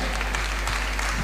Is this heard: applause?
yes